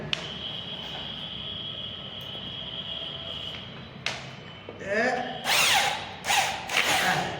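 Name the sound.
power drill driving screws into ceiling board channel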